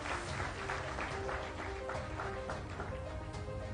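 A studio audience at a live TV interview applauds to welcome a guest, a continuous dense wash of clapping that holds steady, with voices faintly beneath.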